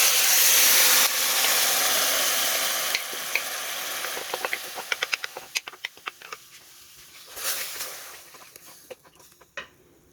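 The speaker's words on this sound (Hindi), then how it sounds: "लहसुन हमारा गोल्डन होना शुरू हो गया। अब हम अपनी मैरिनेट की हुई चिकन इसमें डाल देंगे।" Marinated chicken dropped into golden garlic and chopped green chilli in a hot pan: a loud broad sizzle at first, then settling into crackling, popping bursts and scattered spits as it fries, with no talk.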